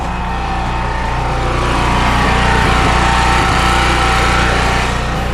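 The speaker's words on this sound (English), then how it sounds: "You can hear the generator." A generator runs outside with a steady, loud, droning engine hum that holds constant throughout, heard alone with no talking.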